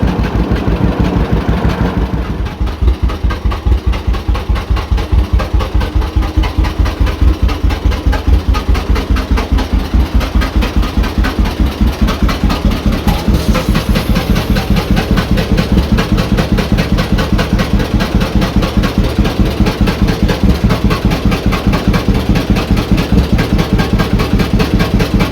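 An old John Deere AR tractor idles after a tractor pull, its engine thumping in a fast, even beat that holds steady and loud for the whole stretch.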